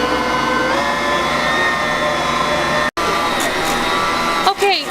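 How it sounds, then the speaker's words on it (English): A stand mixer kneading cinnamon roll dough, running as a steady loud motor whir with a brief cut partway through and a few small knocks near the end. "Now we're gonna let the mixer go for 5 minutes"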